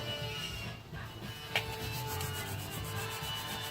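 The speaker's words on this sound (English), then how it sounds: "And wipe my hands real quick." Hands are wiped clean of grit and grime after work on a motor's pistons. A soft, close rubbing continues steadily throughout, with one brief sharper scrape midway.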